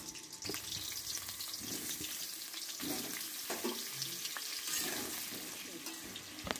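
Diced potatoes fry in mustard oil in a wok for a soybean curry, giving a soft, steady hiss with occasional light scrapes and splashy crackles, quiet and continuous with no voices.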